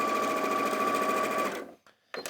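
A sewing machine runs steadily at speed while stitching a seam, its motor hum and rapid needle rhythm continuous for about a second and a half before stopping abruptly, followed by a brief clatter.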